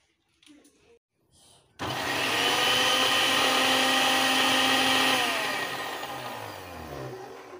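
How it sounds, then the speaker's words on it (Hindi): A mixer grinder crushes Cheetos cheese balls, starting abruptly after a couple of seconds of faint knocks and then running as a loud, steady whirring grind that slowly eases toward the end. "ये चीटोस चीज़ हम कर लेंगे बिल्कुल क्रश। मैं हमने मिक्सर में डाल दिया।"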